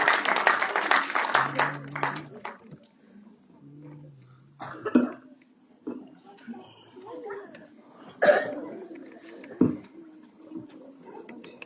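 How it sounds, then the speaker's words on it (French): A church congregation applauds for the children at a New Year's Eve service, with a dense burst of clapping over the first couple of seconds under a speaking voice, then fading into scattered coughs and murmurs. "Je vous prie d'applaudir quand même pour les enfants"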